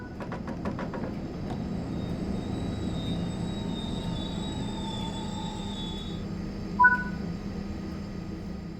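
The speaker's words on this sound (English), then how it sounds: "Bring the train to a stop." A train in Train Sim World 6 rumbles steadily as it slows to a stop, with high, drawn-out brake squeals and a brief clunk near the end.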